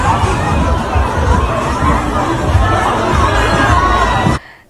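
Dense Halloween crowd packed into the narrow streets of Itaewon, South Korea: loud, continuous roar of shouting, chatter and cries from many people at close range, cutting off abruptly near the end.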